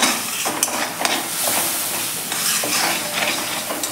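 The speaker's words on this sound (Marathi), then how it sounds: "आपण व्यवस्थित मिक्स करून घेऊया" Besan masala is stirred in a thick-bottomed kadai, a continuous loud sizzle and scrape with brief clatters of the spoon against the metal.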